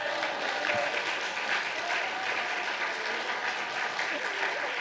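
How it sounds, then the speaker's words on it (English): An audience at a San Francisco poetry event gives a steady round of applause, dense continuous clapping filling the room without pause. "before we give them a round of applause"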